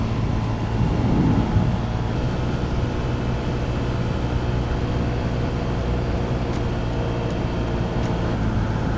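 Honda PCX125 scooter with a 125 cc engine ridden through city streets, a steady low engine drone and road rumble running continuously, loud and close, with no talk over it.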